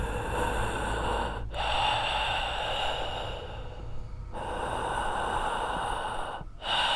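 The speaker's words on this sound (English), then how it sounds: "I heard a shuffling coming from my closet, followed by heavy breathing" Heavy breathing in a horror story, slow loud close breaths drawn in and pushed out in long strokes, three drawn-out cycles separated by brief pauses, set over a low steady hum.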